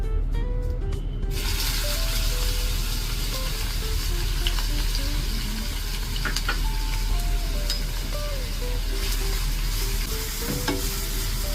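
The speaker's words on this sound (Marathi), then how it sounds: "आपल्याला कांदा थोडा कलर चेंज होईपर्यंत परतवायचा आहे" Chopped onions fry in hot oil in a pan for Mumbai street-style masala pav, a loud, steady sizzle running throughout with occasional stirring scrapes and clicks.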